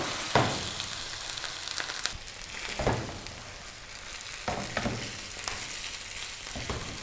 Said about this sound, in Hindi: आलूओं को हमने ऑयल के साथ अच्छी तरह से मिक्स कर लिया है।